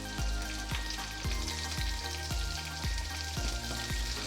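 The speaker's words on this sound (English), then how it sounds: "We start the sauce by adding the meat to your frying pan over medium-low heat." Guanciale frying in a pan over medium-low heat without oil, giving a steady close sizzle with repeated sharp pops and crackles as the fat renders, no voices.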